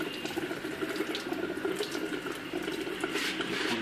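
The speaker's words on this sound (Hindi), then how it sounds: "पानी बह रहा है" Water rushes steadily through a damaged radiator hose pipe on a Suzuki Mehran car, a continuous close splashing flow with no voices.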